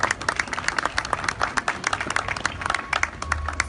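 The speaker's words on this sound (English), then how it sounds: "another round of applause for him." Crowd applause at a Long Beach Motor Sports Walk of Fame ceremony honoring a race legend: a dense, steady round of clapping with many sharp individual claps, sustained throughout.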